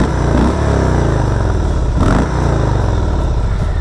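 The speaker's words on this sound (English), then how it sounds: "Let's just give that a bit of a rev." 2018 Harley-Davidson Street Bob motorcycle engine revving up close, a loud continuous rumble with one brief throttle blip in the middle.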